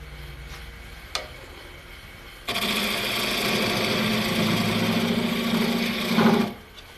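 Wood lathe hollowing a bowl turned without a chuck: a steady whirring hum, then a sustained rough scraping hiss of the tool cutting the spinning wood for several seconds, close, stopping near the end.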